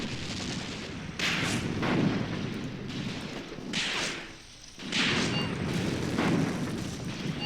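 Artillery and gunfire in Graviteam Tactics battle over a farmstead: several heavy booming blasts roll out at intervals, each followed by a long rumbling decay, with no talking.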